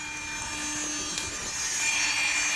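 Air-conditioned flat iron hair straightener running with a steady whooshing, rushing hiss of air close by, continuous and fairly loud.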